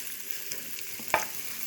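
Fatty pork frying in a pan, a soft, steady sizzle with a couple of faint stirring scrapes and one sharper tap of the utensil, quiet and close, with no voices.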